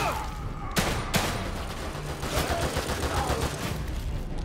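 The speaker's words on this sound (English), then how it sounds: "You have a freaking fully automatic weapon!" Dense burst of fully automatic gunfire in the horror video game The Evil Within 2, a continuous rattling fusillade with a couple of sharper cracks early on, loud and sustained throughout.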